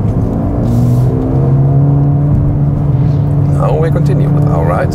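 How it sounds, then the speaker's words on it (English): Mercedes A35 AMG engine droning steadily and loudly inside a tunnel, a sustained low hum with echoing rumble, with voices briefly audible near the end. "Some more sound impressions from inside the tunnel."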